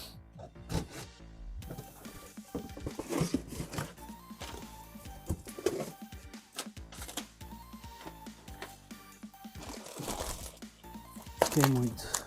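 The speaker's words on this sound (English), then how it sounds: "So let's unpack it." Crinkling wrapping as a replacement BMW 420d F32 diesel particulate filter is unpacked, irregular close rustles and crunches scattered throughout with occasional clunks.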